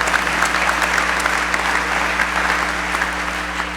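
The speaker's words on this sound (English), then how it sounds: "you can clap" Steady, dense applause from a large audience at a 2015 high school graduation ceremony, sustained and fairly loud throughout with no talking over it.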